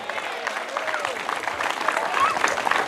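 A church congregation claps for the Lord, a dense burst of applause from many hands with a preacher's voice over it.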